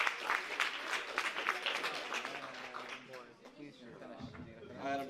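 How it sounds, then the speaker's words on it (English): Audience clapping at a high school open mic night, a busy patter of claps mixed with chatter and cheering, fading as voices take over toward the end. "Clap it up."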